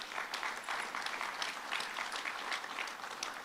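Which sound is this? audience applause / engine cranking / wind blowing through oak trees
audience applause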